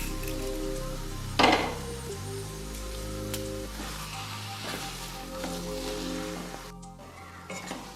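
Taro leaves (kochur shak) frying in a pan with sugar, a steady close sizzle and crackle with one brief clatter of stirring near the start.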